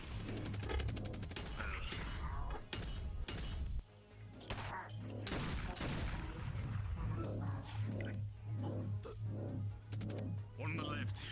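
Sharp gunshots and crashing impacts from a shooter video game, repeated through busy combat noise with a steady hum, with speech over parts of it.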